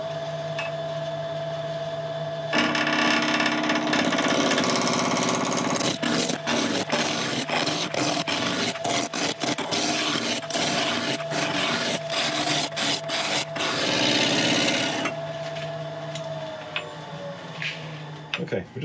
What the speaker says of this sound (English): I'm going to be starting off to get this round using a 1-inch record power roughing gouge